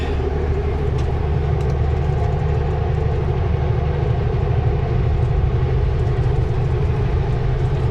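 A train emerges from a tunnel and rumbles past at Three Valley Gap, a steady, heavy low-pitched roar and rail noise, loud and unbroken throughout, with no voices.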